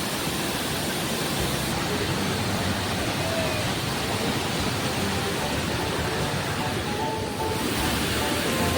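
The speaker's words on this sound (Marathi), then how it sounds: "बघा पाणी सोडताय बापले" Water released from Gose Dam roars in a steady, loud, broadband rush that never lets up, with wind buffeting the microphone.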